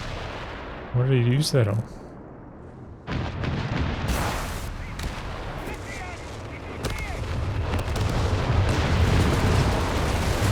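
Artillery fire in the video game Company of Heroes 3: booming blasts and crackling battle noise build into a dense roar, with a voice commentating over the early part.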